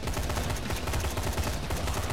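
Dense, rapid machine gun fire rattles continuously in the Dying Light zombie game, a loud unbroken burst of overlapping shots.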